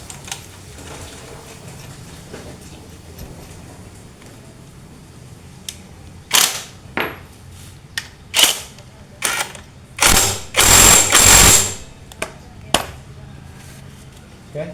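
A ratchet wrench works the 19 mm rear pulley bolt on a Honda Beat ESP scooter, with loud, close bursts of rapid clicking and a longer grinding run near the end, over low background noise and muffled voices.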